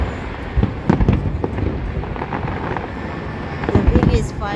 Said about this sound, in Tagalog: The biggest fireworks in Canada and USA.